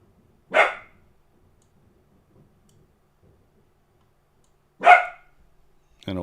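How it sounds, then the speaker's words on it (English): Two loud single barks from a nearby dog, spaced about four seconds apart, with near silence between them and a short tonal sound at the very end. "I don't know what he's barking at exactly."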